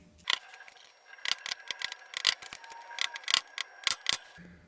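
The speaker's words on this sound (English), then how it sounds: "now I'm just going to take a screwdriver, you could use a punch, whatever, and just peen a little bit of that aluminum back over again" Screwdriver peening aluminum over a pin on a 904 valve body for a Mopar A727 transmission, a series of sharp metallic taps and clicks in an irregular rhythm, close and fairly quiet.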